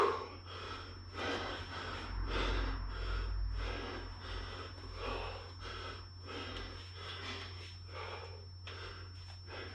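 Heavy rhythmic panting from someone doing kettlebell shoulder presses in a home HIIT workout, loud and close, with steady repeated breaths over a low steady hum and no talking.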